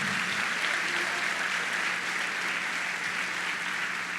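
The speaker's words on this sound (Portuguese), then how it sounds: "Aplauda mais forte então" A church congregation applauds loudly and steadily during a worship service, a dense even wash of clapping that holds for the whole stretch.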